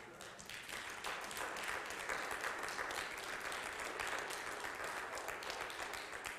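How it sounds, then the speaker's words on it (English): A church congregation claps during a worship service in a sustained, even wash of applause that holds for several seconds, with faint voices mixed underneath. "Man, you should be clapping."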